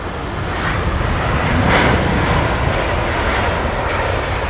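A landing airplane gives off a loud, continuous engine roar that stays close and steady throughout, with no voices.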